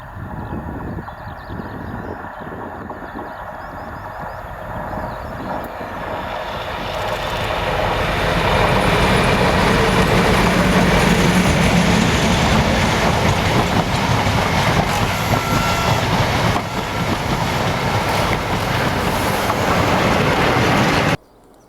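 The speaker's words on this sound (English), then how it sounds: "seen leaving Foley Park Tunnel as she heads the ScotRail set, with 47712 Lady Diana Spencer as they head a Kidderminster Town to Highley shuttle" Diesel locomotives, including class 47 No. 47712, haul the ScotRail set out of Foley Park Tunnel on a Kidderminster Town to Highley heritage shuttle: a loud engine roar and rail rumble that swells as the train nears, with no talk.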